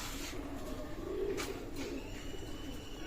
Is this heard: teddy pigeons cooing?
yes